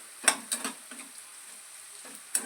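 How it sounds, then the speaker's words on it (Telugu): Dried fenugreek frying in a little oil in a home kitchen pan, heard as a few soft, brief crackling bursts with quiet gaps between them, fairly faint and close, with no talking. "సో ఒక 1 మినిట్ నూనెలో ఇలా వేసుకుంటే సరిపోతుందండి."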